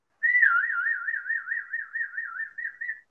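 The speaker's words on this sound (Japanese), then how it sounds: "一回口笛で" A single clear human whistle, held steady for about three seconds with a fast, regular warble wavering up and down in pitch, close and alone.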